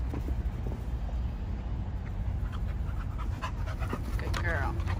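A puppy pants quickly and rhythmically after running, close by, over outdoor rumble, with brief faint whimpers near the end.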